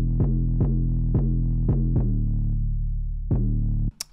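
A lone deep 808 bass plays a short rhythmic pattern of booming sustained notes, cleaner and less gritty, ending with a brief high click.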